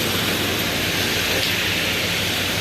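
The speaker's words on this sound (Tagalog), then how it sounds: "Pero humina na po ngayon ang ulan." Steady hiss of light rain falling, an even wash of noise with no breaks or voices.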